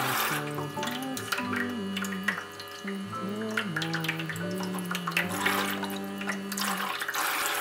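Water runs steadily from a tap while toy vegetables are washed, a continuous close splashing flow over soft musical tones.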